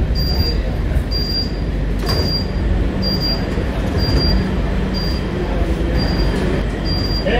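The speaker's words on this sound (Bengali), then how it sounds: "ট্রেনটা চলে আসলো দমদম ক্যান্টনমেন্ট" A Kolkata Metro train at Dum Dum Cantonment station gives a loud, steady rumble of wheels and carriage, with brief high metallic squeals recurring every second or so.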